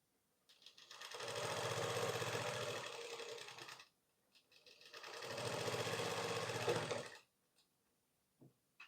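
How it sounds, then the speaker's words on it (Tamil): An electric sewing machine stitches a blouse in two sustained bursts of rapid needle clatter, each about three seconds long, separated by a brief pause, close and clear with no talking. "இதை வந்து டபுள் டைம் ஸ்டிச்சிங் போட்டுக்கணும்"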